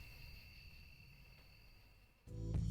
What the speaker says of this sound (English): Those crickets were making me feel sleepy.